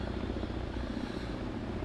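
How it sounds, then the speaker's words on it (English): A CH-47 Chinook helicopter in the Second Life virtual world gives off a continuous, moderately loud rotor and engine rumble with an even throbbing texture, steady throughout, without any talking. "We are flying the freaking Chinook helicopter."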